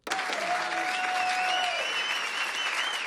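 An audience at a stand-up comedy show for comedian Dave Rubin breaks into loud, sustained applause. The dense clapping starts abruptly and holds steady, with a brief whistle or cheer near the start.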